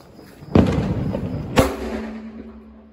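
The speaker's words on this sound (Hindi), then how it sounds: "सुमी जो है ये वाला बम जो है यहाँ पर छोड़ रहा है, देखिए उसमें डाल कर है भाई, सीमेंट वाला मिक्सचर बड़ी भयंकर आवाज करता है" Two heavy Diwali firecracker bombs packed in a cement mixture go off outdoors about a second apart, each a loud booming blast trailed by a lingering rumble.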